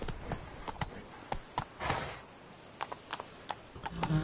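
Roach the horse's hooves clip-clop in The Witcher 3 Blood and Wine, a light irregular walking rhythm of sharp hoof taps under faint ambient sound.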